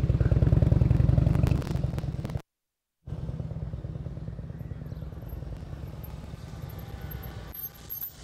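A motorcycle creeps along at very slow speed with low throttle during a slow-speed riding practice session in California, its steady low engine putter close and continuous, briefly cutting out before resuming.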